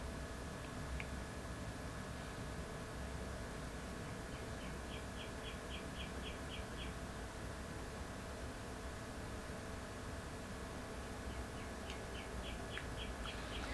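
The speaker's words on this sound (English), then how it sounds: "Those birds are really going at it," Birds chirp outdoors on a warm day, with short bursts of rapid, high chirps rising faintly twice over a steady background hiss.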